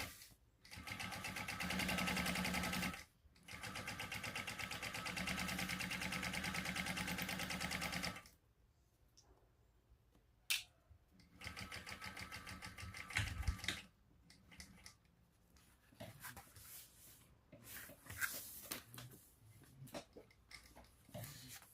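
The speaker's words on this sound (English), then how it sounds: "I'm going to top stitch this across at 1/8 of an inch seam allowance" Sewing machine running in sustained bursts while top stitching a shoulder bag at an eighth-inch seam allowance, a steady close motor hum with pauses and quieter handling noises between runs.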